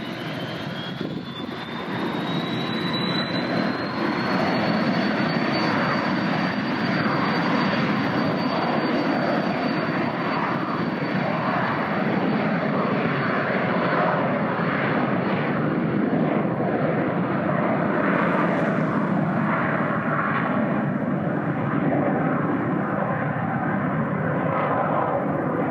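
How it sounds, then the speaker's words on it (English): A fixed-wing airplane takes off from the runway at Telluride airport in the Colorado mountains: a loud, sustained engine roar with a rising whine that climbs and then holds steady, heard with no one talking. "waiting for a plane to take off or land. Sounds like one's about ready to take off right now"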